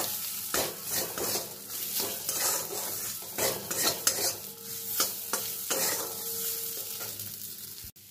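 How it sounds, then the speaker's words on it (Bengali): Grated coconut fries with ginger, chili and spices in a pan, a utensil scraping and stirring through it in repeated strokes over a steady, close sizzle. "নারকেলটা দিয়েও আমি একটু ভালো করে মশলার সঙ্গে ভেজে নেব।"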